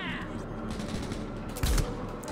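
Gunfire rattles during a shootout in the video game Cyberpunk 2077, with a busy layer of shots and effects and one sharp, louder burst near the end.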